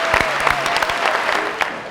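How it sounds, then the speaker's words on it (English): Audience applause fills a senior banquet hall for graduating class leaders, a steady wash of many hands clapping at close range, with a faint voice or whoop cutting through for a moment. "can we give these folks one more round of applause for leading their class with such grace and poise?"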